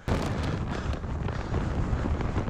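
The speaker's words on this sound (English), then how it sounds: "Bloody hell, that is windy." Strong wind roars and buffets the microphone on a UK motorcycle trip with a BMW R1250GS Adventure, producing a loud, continuous rumbling gust with no talk.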